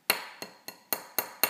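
An Ontario Blackbird SK-5 knife blade is struck six times at a steady pace, each tap giving a bright, hollow metallic ring that decays quickly, close and alone.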